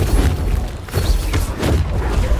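A Confringo blasting spell erupts in Hogwarts Legacy, landing as a few deep, rumbling booms and thuds one after another, loud and close, with a steady low roar of magical combat filling the gaps between hits.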